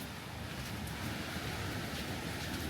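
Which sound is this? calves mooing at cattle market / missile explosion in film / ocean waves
ocean waves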